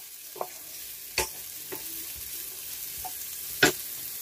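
Garlic and onion fry in a pot for turkey noodle soup, a faint steady sizzle broken by a few sharp spoon knocks and scrapes as it is stirred, with no talking.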